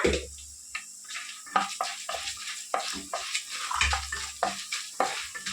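Coriander and cumin seeds fry dry in a pan on light heat, giving a faint sizzle broken by repeated spatula scrapes and stirring strokes at close range, with no voices.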